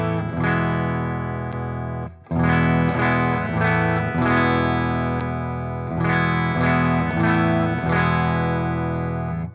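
An electric guitar played through a Jam Pedals Rattler mk.2 distortion pedal, ringing chords struck in several bursts with a brief gap near the start, thick and sustained.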